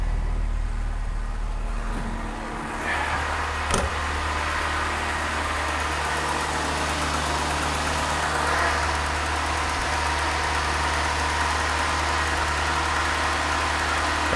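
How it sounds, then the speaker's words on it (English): A Citroën BX engine idles steadily and close by while its hydropneumatic suspension raises the car to full height, a constant low hum with one brief sharp click partway through. "now I need to raise the car to full height."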